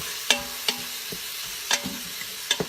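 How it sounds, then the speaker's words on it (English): Garlic being stirred in a Quick Cooker pot while cooking for French dip sandwiches, with a soft sizzle under several sharp utensil scrapes and taps spaced irregularly, close and fairly quiet, no voices. "I'm going to stir these up a little bit."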